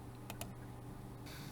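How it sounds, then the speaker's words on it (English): A computer mouse clicks on a play button: two short, sharp clicks close together over a steady low hum, then a hiss of recording noise comes in. "I'm clicking on the play button."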